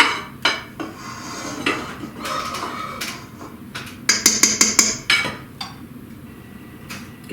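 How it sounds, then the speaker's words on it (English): A spatula scrapes and clinks against a pot while gathering a melted chocolate mixture for double chocolate espresso cookies, with a run of sharp metallic taps and scrapes close by, loudest near the middle. "Gonna get my spatula here because I don't want to leave any of that yumminess in the pot."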